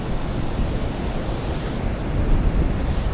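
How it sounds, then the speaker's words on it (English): Ocean surf rolling onto Long Beach near Tofino on a fine day, a steady broadband roar of breaking waves with wind noise on the microphone, swelling slightly toward the end, with no talking. "Check out those waves."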